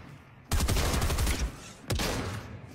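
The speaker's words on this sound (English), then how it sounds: "I just missed three shots" A player's weapon in a video game lets off a close, loud burst of rapid shots, then after a short gap a second burst follows.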